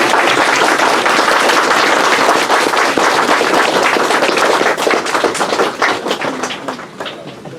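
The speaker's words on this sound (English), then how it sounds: "Make a huge claps, please." Loud, dense applause from a large audience at a Friday group meeting with judges present, sustained and even before gradually thinning and fading toward the end.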